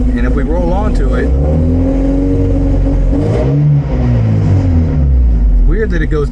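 A 1975 Volvo 245 wagon's 16-valve turbo engine revs up and down in rising and falling sweeps, loud and close, with a person talking over it.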